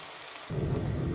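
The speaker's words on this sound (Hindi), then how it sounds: "तो हम इसको इसी तरह से हिलाते जुलाते फ्राई करेंगे" Cauliflower and potato pieces start frying in a pan of oil for aloo gobi, a sudden steady close sizzle and crackle that rises at once out of quiet and holds.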